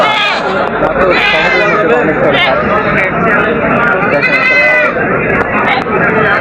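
Goats bleat over and over at a crowded goat market in Baneshwar, Bangladesh, their loud, wavering cries mixing with constant close talk and background hubbub.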